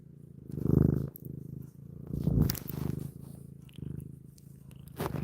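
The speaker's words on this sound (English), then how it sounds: "Can you hear her purrs?" A cat purrs close up, a steady low rumbling that swells in waves with each breath, loud and continuous with no talking.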